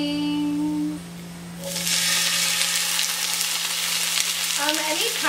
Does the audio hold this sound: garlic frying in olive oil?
yes